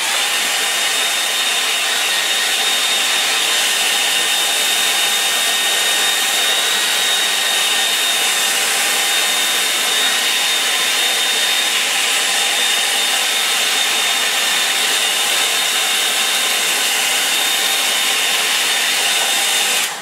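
A hair dryer blows steadily on a watercolour painting, a loud, continuous whooshing drone with a faint high whine that holds unchanged for the whole stretch, with no talking.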